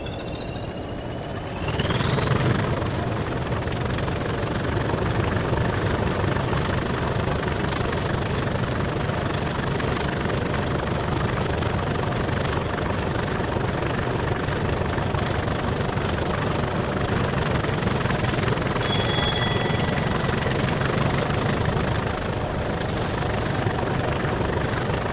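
Class 20 diesel locomotive under power in Train Simulator, a loud, sustained engine roar with a high whine rising in pitch as the throttle opens, then holding steady throughout.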